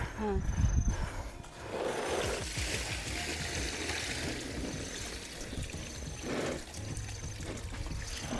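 Water from a bucket splashing and trickling onto plants in a garden, a steady pouring stream with a couple of heavier splashes, while someone talks over it.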